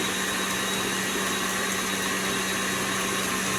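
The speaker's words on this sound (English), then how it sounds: "I will activate my mixer. On a speed of 5, I have my eggs and my sugar working right now." An electric mixer runs steadily at speed 5, beating eggs and sugar for a chocolate cake; a loud, even motor whir with a constant hum fills the whole stretch, with no speech.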